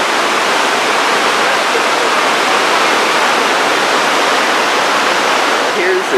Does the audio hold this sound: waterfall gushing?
yes